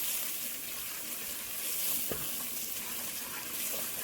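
Curry powder sizzles and fries in a pot as it is stirred, a soft continuous crackle with an occasional scrape of the spoon, close and fairly quiet with no talk.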